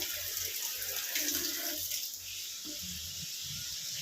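Water runs steadily from a tap in a continuous hiss, fairly close, with no talking over it.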